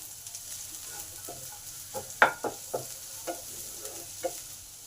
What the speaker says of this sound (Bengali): পেঁয়াজটাকেও একটু ভালো করে ভেজে নেব জাস্ট কয়েক মিনিট সাথে আদা গ্রেট করা আছে আদাটা দিয়ে দিলাম